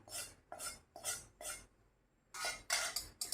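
Murmura chivda, puffed rice coated with a spiced oil tempering, is tossed with a spoon in a bowl, making rhythmic, crisp rustling and scraping strokes: four quick ones, a short pause, then more.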